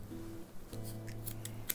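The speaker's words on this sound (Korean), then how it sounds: "가위를 끊어주세요." Scissors snipping through yarn during bag crochet work, a few quick close metallic snips with a brief sliding sound, heard alone.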